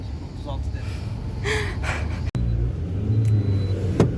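A car engine hums as a low, steady rumble from inside the moving vehicle while driving back from Ölüdeniz, with voices talking over it and a brief sharp click partway through.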